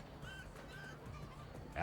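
Chickens in the Minecraft video game give a few faint, short clucking calls over a soft background hum.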